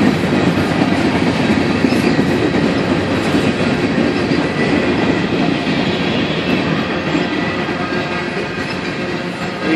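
A long grain freight train picking up speed rolls past close by with a loud, steady rumble and rhythmic clacking of wheels over rail joints, sustained throughout.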